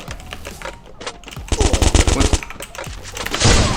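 Rapid automatic gunfire from an AWM-era shooter video game, bursts of shots fired in quick rhythmic volleys, loud and close, with a faint voice in the background.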